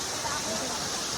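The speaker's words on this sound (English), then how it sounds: "Second waterfall." Gozalandia's second waterfall, a smaller, secluded fall, roars as a dense, steady wash of falling water, loud and unbroken throughout.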